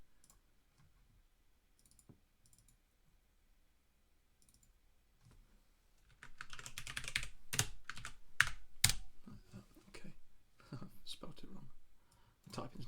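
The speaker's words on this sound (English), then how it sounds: "typing's not very good, especially when the keyboard's all the way over there" Typing on a computer keyboard that sits at a distance: quiet, sparse clicks at first, then a denser run of keystrokes and clacks that later thins out again, with faint low voice in the background.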